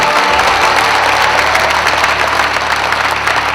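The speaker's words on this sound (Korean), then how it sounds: "우리 모두를 환영하는 뜨거운 박수 부탁드립니다." Warm applause rises from a crowd at a welcome ceremony in Incheon's Seo district, a dense, steady wash of clapping that holds at an even level and stays close and full for the whole stretch.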